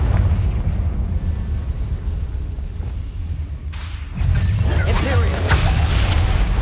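A Confringo fire spell in Hogwarts Legacy bursts with a loud booming explosion, following a stretch of low rumbling ambience, then crackling and swelling for several seconds afterward.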